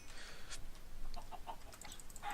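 Faint, soft clucks from a chicken in a video game, a few short bursts near the middle, mixed with light keyboard tapping in a quiet background.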